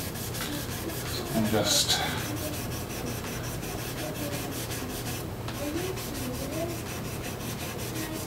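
A rag rubs back and forth along a guitar fingerboard to clean out oil residue, a close, steady scrubbing in quick regular strokes, with a few words spoken briefly at the start.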